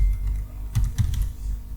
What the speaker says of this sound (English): My keyboard today I'm using a very buggy one